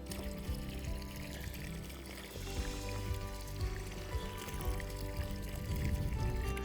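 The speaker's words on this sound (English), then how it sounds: "I'm gonna pour it around the perimeter of the swimming pool." Dissolved pool chemical is poured into swimming pool water, giving a quiet, continuous splashing pour that grows slightly stronger toward the end.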